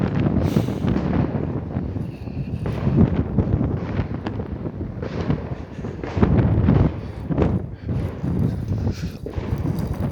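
Wind blows into the microphone outdoors on a cold New Year's Eve night, a loud, continuous low rumble with uneven buffeting gusts throughout.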